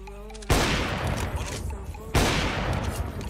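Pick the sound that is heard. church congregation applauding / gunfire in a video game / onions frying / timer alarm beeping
gunfire in a video game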